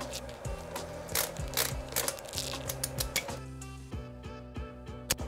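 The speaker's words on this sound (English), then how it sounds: "So I'm gonna go ahead and screw those on now." Nuts with washers are threaded by hand onto the bolts of a wheel pulley on a DIY electric skateboard, giving close, irregular metallic clicks and light ticking taps that come in small clusters over a quiet background.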